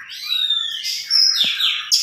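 A round-headed oriental magpie-robin, or kacer, sings clear, high, sweeping whistled phrases with quick chirps, close and loud against a quiet background with no talking.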